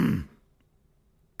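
A voice imitates a man repeatedly clearing his throat at an arthritis doctor's office: two short, gruff bursts, one at the start and one at the end, separated by about a second of near silence.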